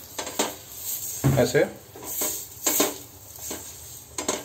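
Half an onion on a fork rubbed across an iron tawa, giving intermittent scraping and clinking metal sounds in short bursts, with a brief spoken word in between.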